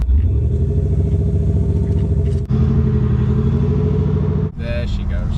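A Land Rover Defender diesel with a Quicksilver exhaust pulls away. Its deep, steady engine rumble is loud and close, with two brief dips as it shifts gears.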